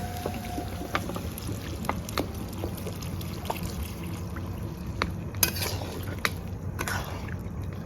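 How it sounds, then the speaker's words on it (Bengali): Water poured into a pan of potato and soybean curry, a watery splashing and bubbling close by with scattered knocks and clinks, no voices. "এবারে আমি জল দিয়ে দেবো যাতে আলুটা সেদ্ধ হয়ে যায়।"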